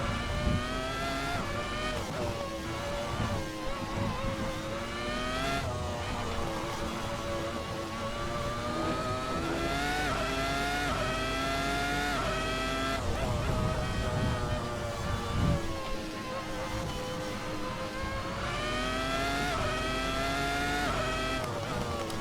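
Race car in a sim racing game, engine note rising and falling as it brakes and accelerates through corners, with tyre squeal and a steady loud drone throughout.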